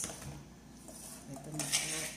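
Cabbage and diced onion being stirred in a baking dish with a utensil, giving soft scraping and clinking against the dish at close range, with low background hum.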